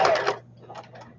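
A home sewing machine stitches in a quick, whirring burst that stops after a fraction of a second, leaving faint room noise.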